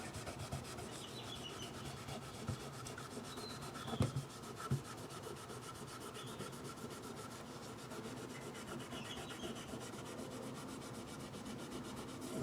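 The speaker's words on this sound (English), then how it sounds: "just gonna wipe off the excess of that F1 oil" A cloth wipes excess F1 oil off guitar frets, making a quiet, continuous rubbing and scuffing sound with a small knock partway through.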